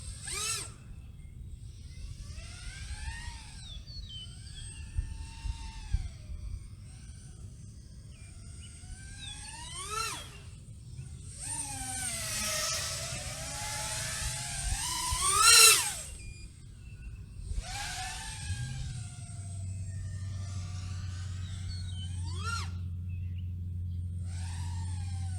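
Small iFlight Xing Nano 1206 4500kv brushless motor spinning props-off at about 21% throttle, a thin steady whine with shifting tones that rise and dip in pitch, close and continuous under a low rumble.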